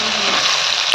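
Tomato curry frying in oil as it is tossed and stirred, a steady close hiss of sizzling that fills the whole second with a brief scrape near the end.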